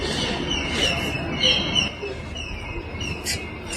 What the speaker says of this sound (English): Can you hear the chirping of birds?